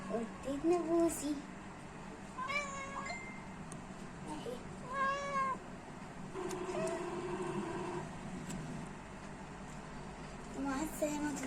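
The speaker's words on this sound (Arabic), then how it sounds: "استنى هعرفكم على القطة بتاعتي." A pet cat meowing a few times in a home, short rising cries scattered among people talking nearby.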